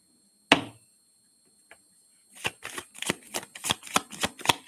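Tarot cards shuffled by hand: one sharp snap, a faint tap, then a rapid run of about nine riffling bursts close up, with no talking.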